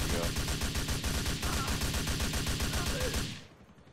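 Rapid gunfire in a video game, a loud, dense stream of evenly spaced shots that runs continuously and cuts off abruptly near the end.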